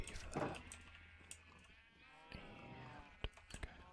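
Sheep in the Minecraft video game, a few short game bleats rising over soft background sounds and light clicks, quiet and close, with a faint voice murmuring now and then.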